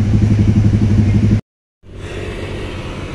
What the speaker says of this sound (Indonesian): Kendaraan motor ya, udah mulai banyak kendaraan motor.